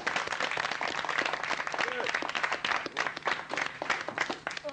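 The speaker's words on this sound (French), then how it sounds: "on applaudit bien fort Claude Putterflamme" A television studio audience at a 1982 French game-show broadcast claps loudly and continuously, with voices mingling through the thick, even applause.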